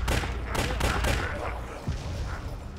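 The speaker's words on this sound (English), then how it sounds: "that little soft explosion in the background" A soft explosion from a zombie-apocalypse video game rumbles low in the background amid a quick burst of sharp gunfire-like cracks, moderately loud, with a voice talking over it.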